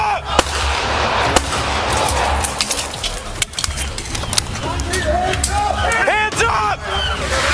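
A few sharp gunshots from deputies' service weapons fired toward a driver crack out, spaced irregularly amid a loud engine rumble, with voices shouting in the background.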